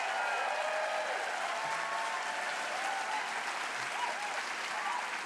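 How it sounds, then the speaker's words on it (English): A large evening audience at Idea Fest in Madison claps steadily and loudly for about five seconds, a dense sustained wash of applause with no pauses. "Could we give another round of applause to Paul"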